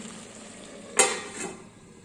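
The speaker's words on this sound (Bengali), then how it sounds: "লং শুকনো লঙ্কা সর্ষের তেল দিয়ে এটা ভাজবো" Bottle gourd peel and potato fry in mustard oil with cloves and dried red chilli, a quiet steady sizzle broken by one sharp clack of a spatula against the pan.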